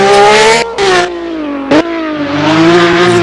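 A Group B rally car in the Roblox game GPTX revs hard through a fast lap, loud sustained engine whine rising and falling with brief gear-change cuts and a short burst near the middle, heard alone and up close.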